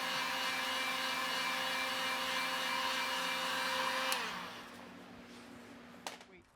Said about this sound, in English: we take and use a heat gun and heat this metal up to let that paint stick to this better